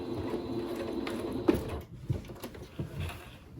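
A sewing machine back-stitches at the end of a seam on a man's shirt being upcycled, a quiet rhythmic mechanical whir with a brief pause and a few clicks as it reverses.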